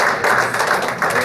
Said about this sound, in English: Let's give yourselves a round of applause.